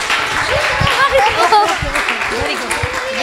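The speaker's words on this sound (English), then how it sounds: "Let's have a big applause for all these kids." An audience applauds the Sunday school children after their performance at ISV: a steady, dense wash of clapping that fills the hall, with a voice talking over it throughout.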